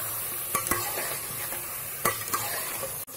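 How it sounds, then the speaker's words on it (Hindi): Ground spices are stirred into chicken korma gravy over a constant hiss of frying. A few soft spoon scrapes and knocks come through, and the background stays fairly uniform. "अब हम इसमें ये पिसे हुए मसाले डाल देंगे"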